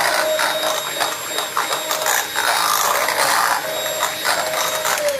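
Electric mixer beaters whirring steadily as they combine melted butter, ginger, egg and milk into a rhubarb pudding batter, a loud, continuous mechanical buzz with small fluctuations, no talk.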